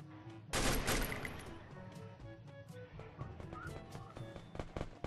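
An M249 machine gun fires in the mobile shooter Garena Free Fire, a loud burst of rapid gunfire that fades into scattered shots and game sounds.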